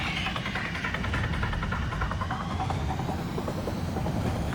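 Jet aircraft engine roar from the Ace Combat 7 flight game, a steady loud rushing drone that holds throughout with no break.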